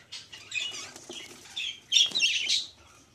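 English budgerigar chicks, 25 to 30 days old, flutter their wings in short rustling bursts mixed with high, thin chirps, heard close and fairly quiet.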